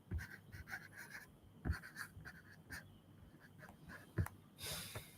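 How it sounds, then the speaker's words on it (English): Pen strokes on paper while notes on solar battery charging voltage are jotted down, soft scratchy scribbling with irregular taps and pauses, close and quiet. "let me write that"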